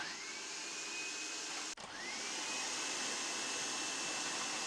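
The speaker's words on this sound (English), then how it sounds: "you can use the grating blade on your food processor. So I'm going to turn it on." A food processor fitted with a grating blade shreds carrots with a steady, loud motor whir that dips briefly for a moment before the constant roar resumes.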